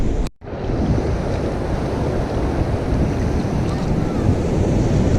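Ocean waves washing at the water's edge of a cold beach, a steady broad rush of surf mixed with wind buffeting the microphone, continuous and fairly loud.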